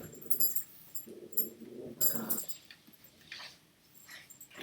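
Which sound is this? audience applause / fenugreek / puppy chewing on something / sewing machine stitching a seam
puppy chewing on something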